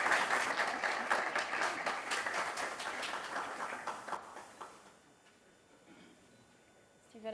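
Applause for a guest being interviewed on a café-style CEO talk show, a dense patter of clapping for about four seconds that thins out and fades, with a brief murmur of voices after.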